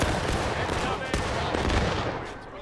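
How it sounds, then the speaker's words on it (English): Dense, loud volleys of musket fire fill a short stretch of a War of Rights battle, overlapping shots crackling near and far with no gaps. "I'm going to shoot"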